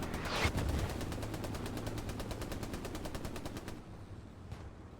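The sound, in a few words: machine gun firing in the video game Hell Let Loose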